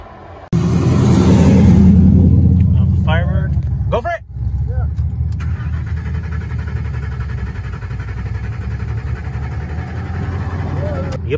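A Firebird's engine cranks and briefly fires, a loud, close rising roar that sags and stumbles after a few seconds without catching, followed by a lower rumble while people talk nearby.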